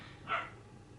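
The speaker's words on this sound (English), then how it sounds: "If you can hear my dog barking," A single muffled bark from a dog downstairs, brief and somewhat distant, rising out of quiet room tone.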